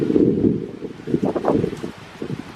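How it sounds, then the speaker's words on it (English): Gusty wind buffets the microphone in low, uneven rumbling bursts, rising and falling over a few seconds with no voices. "it's a nice sunny day, but it's windy"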